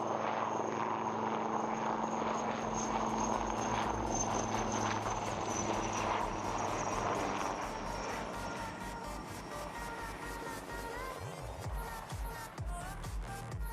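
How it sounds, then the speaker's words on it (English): Aircraft engine roaring steadily during a tail-up aerobatic manoeuvre at the Aero India 2021 flying display, a sustained loud drone with a high whine that gradually eases and shifts in pitch toward the end. "This extreme tail up maneuver demonstrates the razor-sharp response and control power available to the pilot"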